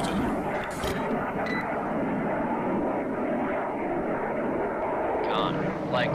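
A loud, steady aircraft engine drone comes from the naval combat video game Cold Waters, with radio-style voice callouts over it.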